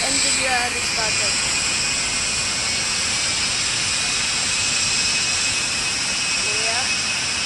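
A Boeing 777-300ER jet engine spooling up in the RFS flight simulator game, a loud steady roar and broad hiss throughout with faint rising tonal whines near the start and end.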